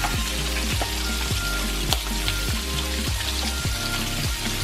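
Chopped garlic frying in chicken grease: a dense, constant sizzle with a repeating rhythmic droning pulse underneath, loud and close.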